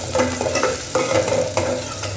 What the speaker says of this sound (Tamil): ஆனியன் போட்டேன்